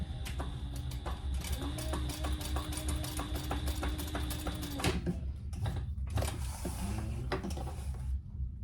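A sewing machine runs a rapid, evenly ticking stitch along a leather pouch seam, pausing briefly partway through before a short second burst, with no voices.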